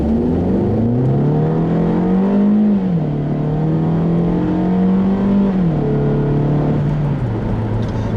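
A 2013 Mini Paceman S with its 1.6-liter engine accelerates hard from inside the cabin, engine note climbing steadily through the revs, briefly dropping at gear changes and climbing again, loud and continuous.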